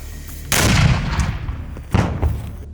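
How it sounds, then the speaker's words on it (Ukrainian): A loud gunshot booms and rolls away, followed by a second blast that echoes similarly, both heavy and resonant at close range. "Постріл!"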